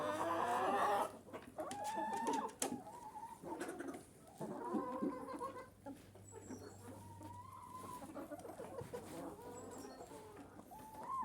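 Hens cluck and murmur softly while feeding in a poultry yard, with intermittent short calls and a rooster crowing in the background, quiet and close, no talking.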